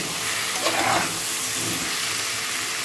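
Spiced potato and onion curry sautéing in a pan with salt, turmeric, cumin, coriander and chilli powder, giving a steady close sizzle and hiss throughout, with a brief louder stir-like burst early on.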